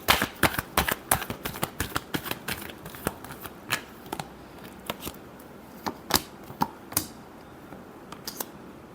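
Tarot cards being shuffled by hand, a quick irregular run of crisp slapping riffles and flicks that thins into scattered single snaps, close and fairly quiet with no talking.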